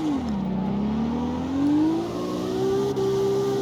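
Car engine in CarX Street revving after a clutch kick: a steady loud engine tone dips, then climbs smoothly in pitch as it accelerates, sustained and close with a faint whir and no talk.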